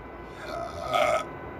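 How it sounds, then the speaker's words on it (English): A single short, low burp after drinking a Monster energy drink, swelling briefly and fading within about a second over quiet room tone. "I had to burp from the Monster."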